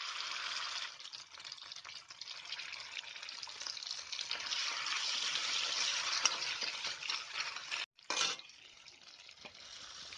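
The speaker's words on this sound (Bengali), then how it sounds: "এবার ওই কাঁচা জিরে ও ধনে বাটা দিচ্ছি।" Ground raw cumin and coriander paste hits hot mustard oil in a kadai in a Bengali kitchen, giving a loud, continuous hissing sizzle that holds steady close up, with a brief break partway through and no talk.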